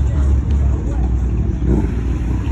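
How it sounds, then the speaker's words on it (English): A Lexus rolls in at an outdoor Cars & Coffee meet, a low engine rumble passing nearby amid crowd chatter and background voices. "Got a Lexus coming in."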